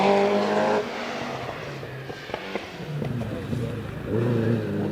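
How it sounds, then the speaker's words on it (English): A Mazda MX-5 rally car pulls away on a hillclimb, its engine note rising through the revs alongside other race-car noise. Commentary runs over it throughout. "Ben Cross gets away in that Mazda sports car"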